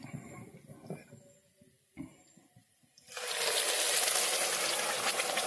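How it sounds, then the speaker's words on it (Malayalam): Coconut milk pours into a pan of Kannur-style beef kurma. A few quiet clinks and knocks come first, then a strong steady gushing pour that runs on, close and loud. "നമുക്ക് തേങ്ങാപ്പാൽ ഇതിലേക്ക് ഒഴിക്കാം ഏതായാലും നമുക്ക് ആ തേങ്ങാപ്പാൽ അതിലേക്ക് ചേർക്കാം"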